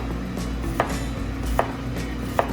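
Knife cutting onions into julienne strips on a board, three evenly spaced crisp chops over a low steady hum, close and clear.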